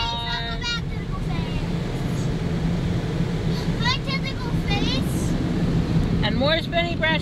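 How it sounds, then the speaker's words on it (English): Cloth strips of an automatic car wash slap and sweep over a car amid a continuous roar of spraying water, with a voice speaking in short bursts over the noise. "We have more tentacles washing our car."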